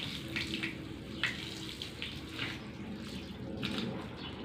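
Water runs steadily while a car is washed to rinse off dust, a soft continuous hiss with faint splashes, distant and quiet, no talking.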